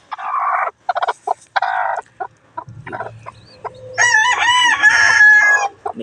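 A Hatch Gray gamefowl rooster crows loudly and close by, its drawn-out call following a run of shorter clucks and calls from the birds, with no speech.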